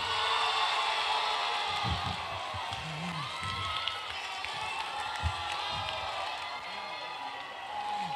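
A large audience cheers and claps for a contestant named Neil in an on-stage applause-vote contest, a loud, sustained roar of crowd noise with shouts and whistles rising over it and a few low thumps.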